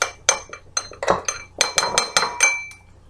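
A metal spoon taps and clinks against a bowl in about a dozen quick, sharp strikes over a few seconds while molasses is measured into wheat bran, close and clear.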